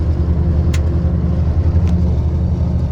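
1988 Chevrolet K30 squarebody pickup truck, lifted and rolling on bogger tires, gives a loud steady low engine and road rumble from inside the cab, with a couple of brief faint clicks.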